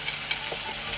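Boiled mutton tipped into frying masala of poppy seeds, coriander, cloves, fennel and cumin, giving a steady close sizzle with a spoon stirring through it.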